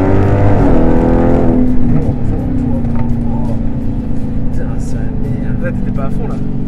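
A 717-horsepower Dodge Challenger SRT Hellcat V8 roars under full throttle, a loud, dense engine note that rises in pitch and then settles into a sustained drone, heard from inside the car with people talking over it.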